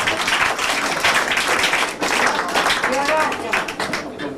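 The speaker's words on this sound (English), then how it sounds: "Give the gentleman a round of applause" Audience applause at a stage hypnosis show, a steady dense wash of clapping from the crowd that holds loud for several seconds with a brief dip midway.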